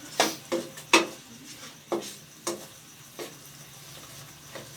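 Karahi chicken with softened onions and tomatoes being stirred in a pan, a series of sharp scraping clinks spaced about half a second apart, loud at first and then fading, over a low sizzle with no talking.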